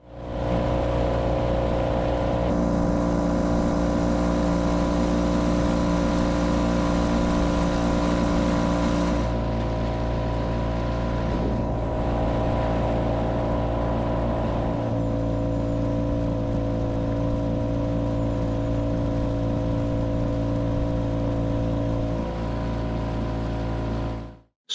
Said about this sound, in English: I then boarded the boat, started the outboard, and made my way to the very northern tip of Loch Awe